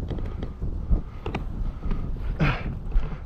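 Light wind on a mountain top above a scree slope in the Arve valley at Magland, at a BASE jump exit point, buffets the microphone as a steady, soft, low rumble with small gusts and no talk.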